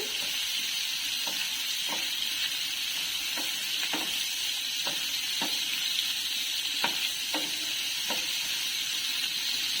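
Mutton liver cooking in hot oil, a continuous close hiss of frying punctuated by scattered soft clicks and taps of a spoon stirring, steady in level with no talking.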